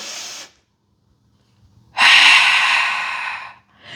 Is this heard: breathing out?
yes